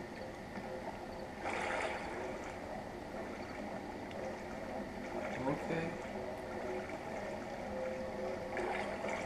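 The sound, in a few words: wading through water in the video game Outlast 2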